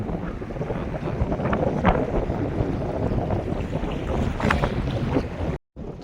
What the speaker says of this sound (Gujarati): બાકી મોજા આવે છે મોટા મોટા